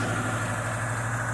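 A 1989 Subaru GL wagon, a 5-speed 4WD barn find, idles steadily with a low, even engine rumble and faint vibration, loud and close with no break.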